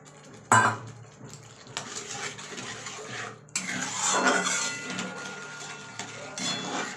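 Prawn masala with cashew and poppy seed paste is stirred in a pan, with loud scraping and clanking of a utensil against the metal pan in bursts and a thick sizzle between strokes, close by and with no talk.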